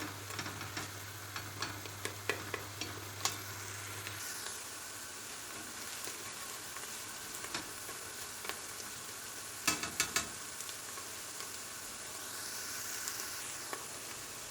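Chopped onions and garlic sauté in a pan for a Tokat/Sivas-style madımak dish, giving a steady low sizzle with scattered stirring clicks and scrapes and a few sharper utensil taps near the middle.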